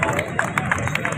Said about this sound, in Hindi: आपका जोरदार एक बार तालियों से स्वागत